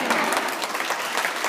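Steady applause from an audience at an alumni awards ceremony, a dense patter of many hands clapping throughout without a break.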